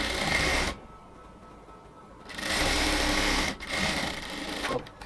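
A sewing machine top-stitches a folded edge of a blouse in two loud, close runs of fast whirring stitches, separated by a brief quiet stretch.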